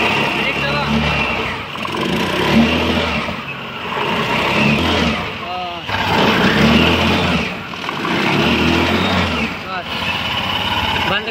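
A TVS Jupiter scooter engine revs repeatedly after a clutch repair, its loud, close whine rising and falling in waves, with a person talking over it.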